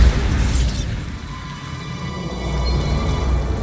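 The Bombarda spell detonates in the video game Hogwarts Legacy. A loud, close blast opens the sound, followed by a heavy, low rumbling roar that lingers for several seconds.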